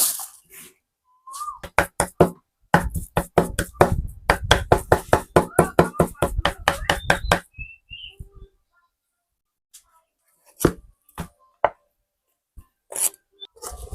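Grilled catfish meat for larb is chopped on a board with a rapid run of sharp, evenly spaced knife strikes, then a pause and a few scattered chops, close and alone.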